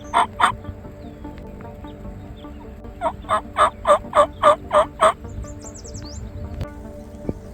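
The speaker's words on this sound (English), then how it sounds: "There's a turkey at the end of the field." A wild turkey gobbles from the far end of a field, one short gobble followed by a rapid run of about seven gobbling bursts, distant but clear over a quiet outdoor background.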